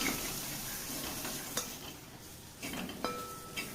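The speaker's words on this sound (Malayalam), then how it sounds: "നമുക്ക് നല്ല പോലെ ഇത് ഇളക്കി കൊടുക്കുക പൊടികളൊക്കെ ആ പച്ച സ്മെല്ല് മാറുന്ന വരെ നമുക്കൊന്ന് വഴറ്റിയെടുക്കാം" Coriander and garam masala powder sautéing in a pan for Kerala-style beef curry sizzle softly while a spoon stirs and scrapes, with a few clinks against the pan; no voices.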